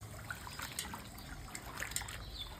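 Homemade potato chip slices are rinsed in water in a home kitchen, giving soft trickling and light splashing with small drips, close and continuous, with no one speaking.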